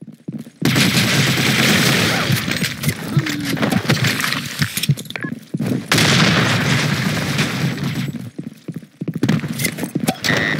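Grenade blasts and rapid gunfire in a team-based shooter video game, loud bursts of booms and firing filling most of the stretch, broken by brief quiet gaps.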